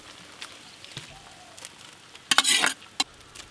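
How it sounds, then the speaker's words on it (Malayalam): Hot cow-ghee tempering with fried onions is poured into a pot of chicken porridge in a village kitchen, giving a short loud sizzling burst after faint clinks, close and with no talking. "ഇതാണ് ഇതിൻ്റെ താളിച്ചൊഴിക്കുന്നത്"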